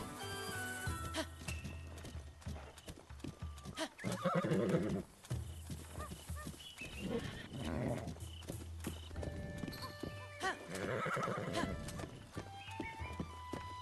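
Video game horse hooves clip-clop steadily at a gallop in Zelda: Breath of the Wild, with a couple of loud whinnies and neighs breaking through over a low background hum.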